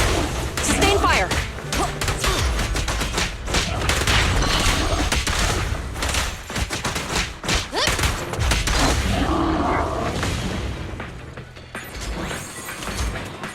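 Rapid automatic gunfire and mechanical weapon clatter in the action game Zenless Zone Zero, loud, dense bursts of shots with metallic ratcheting and impacts, continuing for several seconds before tapering off, with combat voices mixed in.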